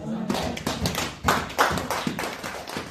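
Congregation clapping during a church worship service, a run of sharp, fairly even hand claps at close range mixed with voices and singing.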